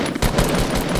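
An M4 rifle in Fortnite fires a rapid burst of about four sharp, loud shots in quick succession, close and dry.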